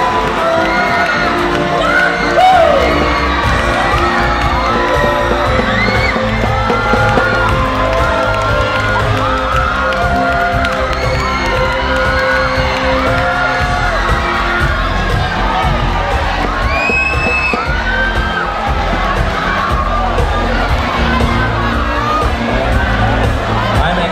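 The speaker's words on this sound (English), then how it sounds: "seeing the response, the reaction of our crowd. Going wild." A crowd at a pageant coronation night cheers wildly, with constant shouting, whoops and high children's screams massed together at full volume for the whole stretch.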